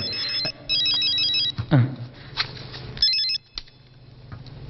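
A telephone rings in bursts of electronic trilling tones during a Telugu film comedy scene, with pauses between the rings over a background of movie sound and bumps.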